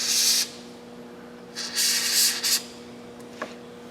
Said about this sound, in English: Just a little bit of penetrating fluid to loosen up the lower O-rings for the injectors